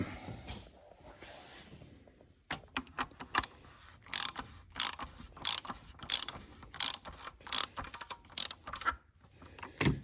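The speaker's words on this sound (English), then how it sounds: "Get my wrench. I'm going to tighten it up." A ratchet wrench tightens the oil filter on a Jeep V-6 engine, giving quick runs of sharp, close clicking in irregular bursts after a quieter opening stretch.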